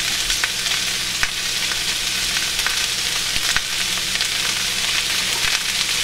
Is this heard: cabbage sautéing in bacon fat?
yes